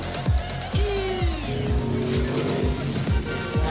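Cars race in a film scene, engines revving and whining past in repeated quick surges with a rising tire squeal in the middle, loud and close under a busy soundtrack.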